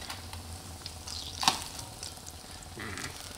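Catfish pieces frying in hot oil, a quiet continuous crackle and sizzle with a sharper pop midway and faint stirring scrapes toward the end.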